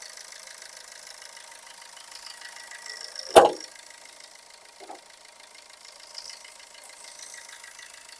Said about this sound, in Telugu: ఒకసారి ఇంజిన్ కూడా మీకు చూపిస్తాను చూడండి.